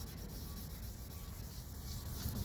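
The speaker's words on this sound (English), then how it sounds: "So just keep on sanding till the water is clear." A plastic car headlight is wet-sanded by hand with a quiet, steady rubbing and scraping that stays faint and close throughout, with no talking.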